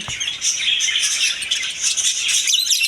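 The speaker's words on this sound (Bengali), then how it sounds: "দিকে আছে অস্ট্রেলিয়ান ঘুঘু পাখি" Australian doves and other cage birds calling together in a pet bird shop, a steady dense chorus of chirps and coos filling the space with no voices.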